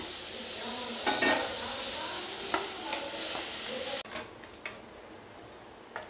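Carrot and garlic sauté in a pan over a low flame, giving a soft, steady sizzle with a few sharp stirring clicks; the hiss drops noticeably quieter partway through.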